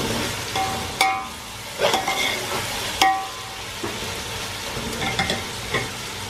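Onion frying with ginger and garlic in a pan for chicken biryani, a steady close sizzle punctuated by several sharp spatula scrapes and knocks at irregular intervals.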